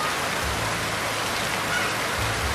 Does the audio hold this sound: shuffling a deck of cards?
no